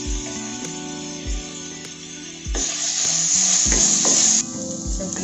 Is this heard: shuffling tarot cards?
no